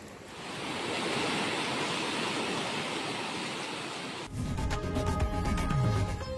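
Floodwater from a river overflowing its banks after heavy rain rushes in a loud, steady roar. Partway through it cuts to a different, more tonal scene.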